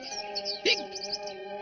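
A bird, groggy after eating, gives a few close, bright chirps and tweets over a steady tonal background with no speech.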